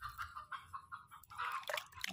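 A toy chicken gives a quick run of close, nasal clucks, rising into a busier burst of squawks at the end, with no talking.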